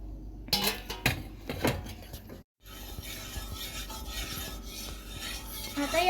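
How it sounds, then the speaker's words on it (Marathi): A spoon scrapes and clinks against a cup while coffee is stirred into hot water, with a few sharp metallic knocks early on, a brief pause, then steady rubbing swirls. "आता याला मिक्स करून देणार आहे"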